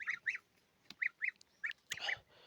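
Domestic geese kept outdoors give a run of short, nasal honks in quick bursts, fairly close and clear against a quiet background.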